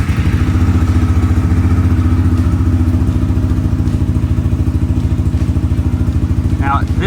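Small single-cylinder engine of a Hisun Sector 250 UTV side-by-side running with a steady, rapid low putter throughout, close and fairly loud, with faint background voices underneath.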